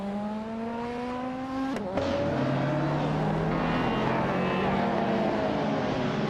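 A 1991 Ford Sierra Sapphire race car drives on a circuit, its engine note droning and rising, then a sharp shift point as the pitch drops and the engine pulls steadily again, close and loud.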